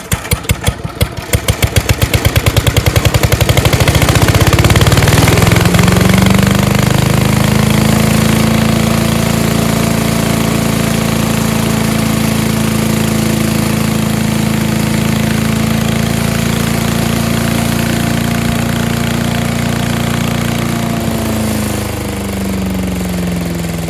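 Craftsman 5HP Briggs wood chipper leaf shredder engine starting with a rapid sputter, then running loud and steady up close, with the pitch settling lower near the end.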